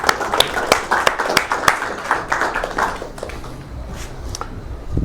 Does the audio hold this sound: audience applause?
yes